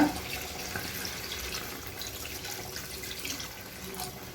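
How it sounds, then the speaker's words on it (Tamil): About half a litre of water pours in a steady, soft stream into a cooking pot of chicken curry for several seconds, fairly quiet, with no talking. "இது கறி வேகிறதுக்கு வேணுங்கிற அளவு தண்ணி ஊற்றிக்கலாங்க."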